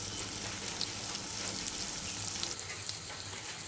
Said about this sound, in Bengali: চলো আর একটু ভালো করে ভাজা করে নিই।